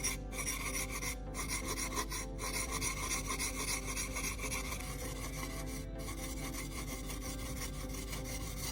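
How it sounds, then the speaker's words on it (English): A chisel is pushed back and forth across a sharpening stone in a steady, grinding rasp that continues for several seconds with a few brief pauses, close and fairly quiet with no talking. "Similarly, I will sharpen the other side to achieve the desired sharpness."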